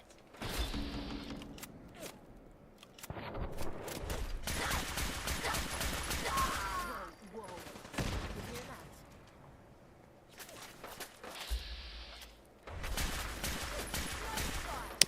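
Gunfire in the Fallout 4 video game, bursts of rapid shots and mechanical clatter in separate loud stretches broken by quieter gaps, with speech-like sounds mixed in.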